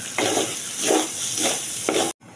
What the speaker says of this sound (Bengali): আর এইখানে আমি চালগুলো ভেজে ফেলছি